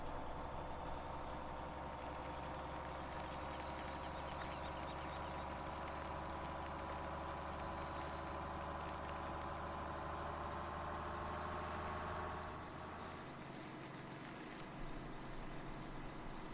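Truck engine in the Farming Simulator 17 game, a loud steady drone with a rising whine that ends in a short hiss of air brakes, then quieter idling.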